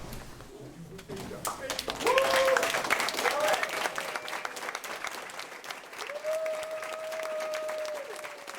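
An audience gives a standing ovation to two people from radio station KZUU, with thick, sustained clapping that swells after a quieter start, joined by voices and drawn-out whoops or cheers rising over the noise.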